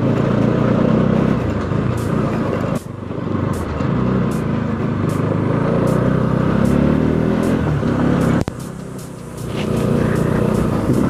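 Bajaj Pulsar NS 200 motorcycle engine on a test ride, a loud continuous engine roar with shifts in pitch and two brief dips as revs drop, heard close with wind and road noise.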